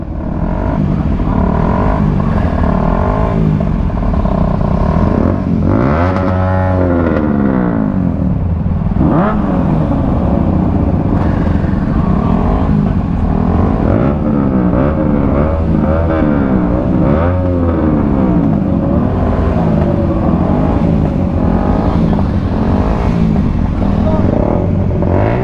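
A 2021 Yamaha YZF-R125 motorcycle engine revs at a roadside meet. A loud, continuous engine drone rises and falls through several throttle blips, with voices talking over it.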